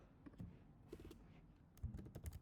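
Code being typed on a computer keyboard, with a run of quiet, irregular key clicks and a few sharper taps and clusters, close and alone with no talk over it.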